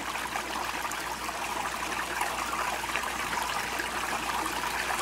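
Water runs steadily through a six-inch off-brand cleanup sluice, a constant close rushing trickle with no breaks and no voices.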